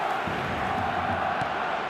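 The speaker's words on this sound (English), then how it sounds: "Certainly gave this crowd something to really cheer about." A stadium crowd in a football video game cheers and roars steadily, a dense broad wash of voices at moderate level with no single voice standing out.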